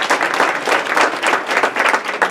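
An audience at a theatre playhouse season announcement breaks into brisk, dense applause, many hands clapping loudly and evenly for a couple of seconds.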